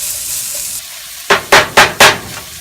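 Peppers and onions sizzle steadily in a pan for tofu breakfast tacos, then four quick, fairly loud stirring scrapes follow in an even rhythm, close up and with no talking.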